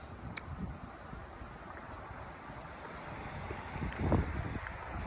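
Wind blows steadily outdoors, a low rushing roar that buffets the microphone and swells briefly louder near the end.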